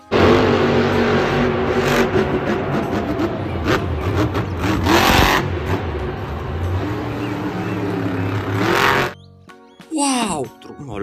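A toy monster truck produces a loud, continuous revving engine drone with surging, buzzing bursts for roughly nine seconds before it stops, followed by a short spoken phrase.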